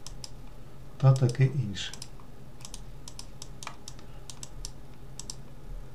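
Computer keyboard typing: a burst of quick clicks with a firm Enter keypress, followed by scattered separate key taps, while a voice speaks briefly near the start.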